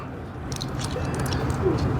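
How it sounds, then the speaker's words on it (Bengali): A pigeon coos softly in a few short repeated calls over a steady background hum, with no talking. "এই কবুতরটি দেখেন এই কবুতরটি কিন্তু ভিডিও স্ক্রিনে আপনারা দেখতেছেন"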